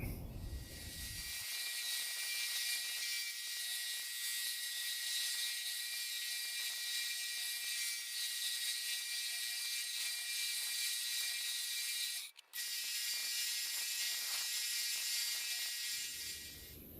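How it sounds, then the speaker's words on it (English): A bandsaw runs steadily while shaping the handle of a wooden kuksa, giving a continuous whirring, rasping drone with a brief cut-out near the end, fairly quiet and with no talking. "back out here with the bandsaw. Let's see if we can shape that handle a little bit"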